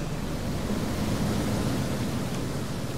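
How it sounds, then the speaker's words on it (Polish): A rushing river wave in the video game Shelter: steady, broadband roar of churning water, loud and continuous throughout with no breaks or talk. "poczekamy jeszcze raz, aż fala przejdzie"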